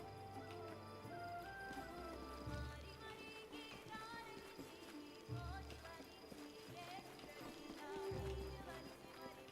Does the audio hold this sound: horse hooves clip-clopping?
yes